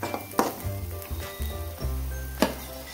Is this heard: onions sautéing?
yes